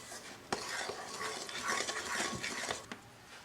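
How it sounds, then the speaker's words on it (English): Flour and sugar are stirred together in a bowl for nut wafers, with soft scraping, granular swishing and a couple of sharp utensil taps against the bowl, close and moderately loud. "We mix the flour and the sugar."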